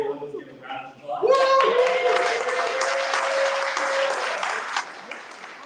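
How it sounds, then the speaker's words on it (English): An audience breaks into sustained applause for a guest speaker, a dense wash of clapping swelling after a second of talk and holding steady to the end, with a few cheers mixed in. "let's give a round of applause."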